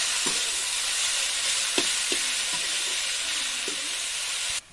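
Steady loud sizzling of food frying in a pan, with a few soft knocks of stirring, cutting off abruptly near the end.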